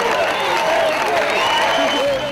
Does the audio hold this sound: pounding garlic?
no